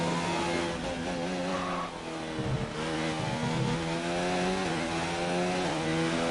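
A Formula 1 car in the F1 2019 game screams along the track, its high engine note rising and falling through gear changes, steady and fairly close, with no talking.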